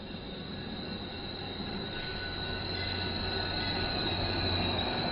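Subway train wheels squeal against the rails in a continuous high, piercing whine over a low rumbling roll, steady and fairly loud throughout, with no one speaking.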